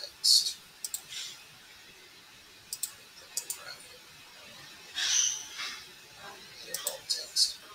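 A computer mouse gives sharp, scattered clicks in a quiet room, single and double presses spread irregularly, with faint breathing between them.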